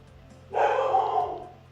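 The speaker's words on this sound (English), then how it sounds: "The dog goes mental." A dog barks in a loud, sustained burst of yapping at close range, rising suddenly from a quiet room hum and tapering off after about a second.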